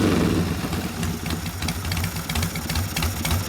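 A 1972 Harley-Davidson XL Sportster Ironhead motor, partly warmed up after a rebuild, idles close by with a loud, uneven lumpy thump and mechanical clatter throughout.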